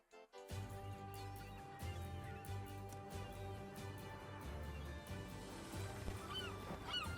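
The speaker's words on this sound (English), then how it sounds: "Look at those birds." Waterfowl honk repeatedly around the port town of Brisk in the Sea of Stars video game, a busy chorus of honks and quacks over steady game music.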